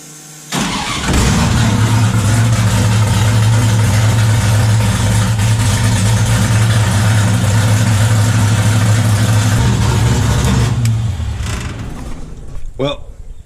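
A car engine with a hydraulic clutch slave cylinder fault cranks and catches while in gear, then settles into a loud, steady idle drone for about ten seconds before fading, close to the microphone with no speech.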